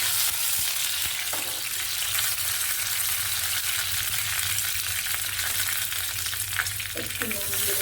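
Black cumin and torn curry leaves crackle and sizzle steadily in hot oil in a pan, a continuous bright frying hiss with occasional stirring scrapes, close and loud.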